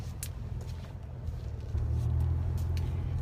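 A car cabin while driving, filled with a steady low road and engine rumble that grows slightly heavier partway through, with faint clicks and rustles nearby and no talking.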